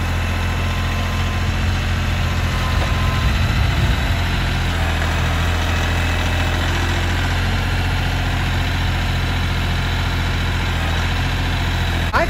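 A compact tractor engine idles steadily and close, a constant low rumble with mechanical vibration and no talking.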